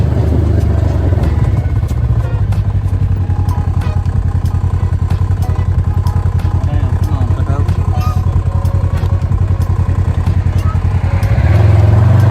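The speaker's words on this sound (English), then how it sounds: "I got some videos of me and Chandler riding, what's it called? Razor" A Razor off-road side-by-side rumbles steadily during a ride, its engine a loud, continuous drone with rattles and clatter from rough ground, and voices faintly audible under it.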